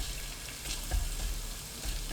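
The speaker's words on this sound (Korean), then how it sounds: "팬에 올리브유 한 큰술, 다진 마늘 한 큰술 넣고 센 불로 볶아주세요." Minced garlic fries in olive oil in a pan over high heat, giving a steady, close sizzle with small popping crackles throughout and no voices.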